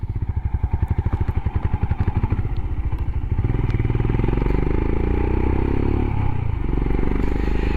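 A Royal Enfield Himalayan motorcycle pulls in second gear, its single-cylinder engine thumping rhythmically up close, then smoothing into a steady louder drone as revs rise.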